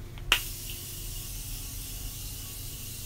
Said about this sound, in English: I'm just gonna spray this all over my face to really melt my makeup that I have on right now together.